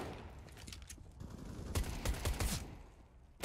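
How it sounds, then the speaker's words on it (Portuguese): Bursts of gunfire trade back and forth in a CS:GO match, with sharp rifle shots clustered in the middle and a steady hum of game sound underneath at moderate volume. "Ele é viciado em trocar tiro, Michel"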